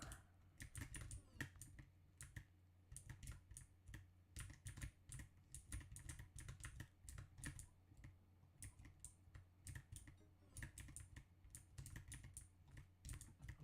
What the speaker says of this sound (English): my keyboard tapping is very loud.